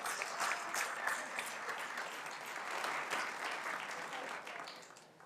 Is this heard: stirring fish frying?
no